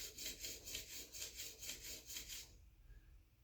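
A planer, chipper or jointer knife sharpened by hand on a stone, a rhythmic series of about ten close, raspy back-and-forth strokes that then stops, leaving quiet room noise.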